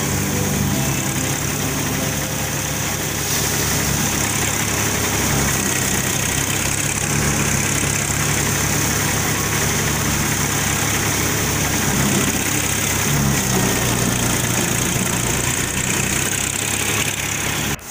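A tractor-driven wheat thresher runs steadily outdoors, a continuous loud mechanical drone with engine rumble and rattling vibration, no talk over it.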